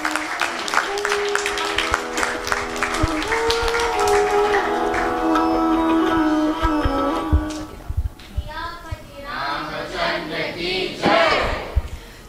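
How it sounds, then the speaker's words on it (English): Audience applause for the cast of a Ramleela performance at a temple, with clapping mixed under music and cheering voices, then shouting and chanting toward the end. "please give a round of applause for all cast members."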